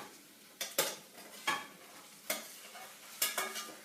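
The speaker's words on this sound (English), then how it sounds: "I'm going to transfer all my pie, you see it, it's very nice, all my pie innards into the dish." Shepherd's pie filling being spooned from a pan into a dish, with several distinct scraping, clattering utensil strikes spaced irregularly over a low wet background, close and fairly quiet, no talking.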